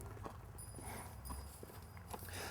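Horse hooves clip-clopping at a walk as a rider squeezes the horse forward in a cowboy riding lesson, steady irregular thuds over a continuous low outdoor rumble.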